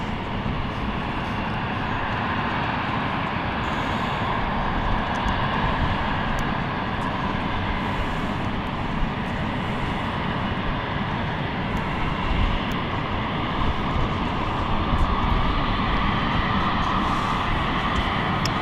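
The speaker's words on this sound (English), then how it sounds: "a KLM arrival and a Swiss A220 departure heading off to Zurich" A Swiss Airbus A220 jet departs toward Zurich from London City Airport, its engines making a steady, broad roar that holds for the whole stretch at moderate loudness with no voices over it.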